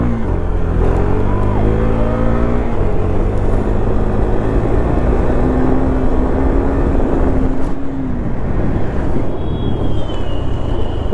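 A KTM Duke 390 motorcycle revs hard during a wheelie, its loud, close engine note climbing and falling in pitch over a steady roar. Voices are faintly present in the background.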